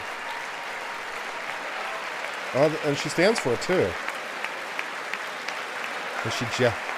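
Democrats in the chamber applauding at the 2020 State of the Union address, steady applause running throughout, with a voice speaking briefly over it in the middle and again near the end.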